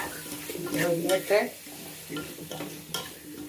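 Potatoes fry in a pan for a home-cooked lunch, with close sizzling and the scrape of stirring, while a voice briefly speaks over it.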